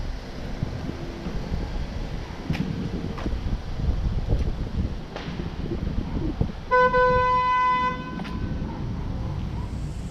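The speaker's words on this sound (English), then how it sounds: "someone honking their horn" A single car horn blares for about a second and a half amid steady wind noise and distant outdoor traffic in a Liberty City, Miami housing project.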